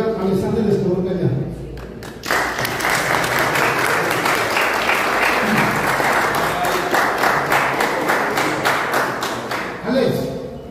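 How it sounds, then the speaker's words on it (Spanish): Welcome applause at a football coach's press conference, a sustained burst of clapping from a room of people lasting about eight seconds, with speech briefly before and after it. "yo quiero que le demos un aplauso de bienvenida a Alexander Escobar Gallán"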